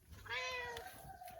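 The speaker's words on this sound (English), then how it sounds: "And here is our Janap kitty" A cat meows once in a home kitchen, a single drawn-out, fairly close call that fades into quiet room tone.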